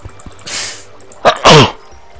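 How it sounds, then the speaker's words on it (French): A single loud, close human sneeze, with a sharp inhaled build-up followed by an explosive burst, heard alone in a quiet room. "Je vais re-éternuer."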